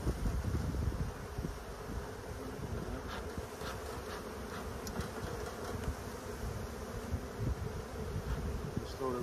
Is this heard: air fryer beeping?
no